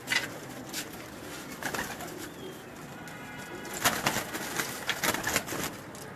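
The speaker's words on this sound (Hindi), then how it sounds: "कबूतर पहले दिखा दूँ।" Pigeons on a Karachi rooftop loft of high-flying birds, with soft cooing and scattered wing flaps over steady outdoor background noise, a few brief louder bursts of fluttering.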